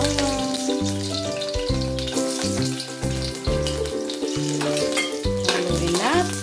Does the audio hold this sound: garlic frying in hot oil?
yes